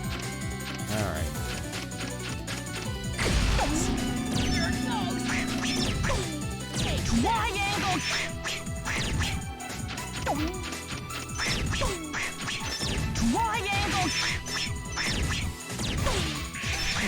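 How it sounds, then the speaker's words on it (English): Gameplay in Mega Man X7 with busy music and action effects, where short quack-like duck noises pop up among crashes and impacts at a steady loud level, mixed into the dense game soundtrack. "Alright, we're back to the duck noises."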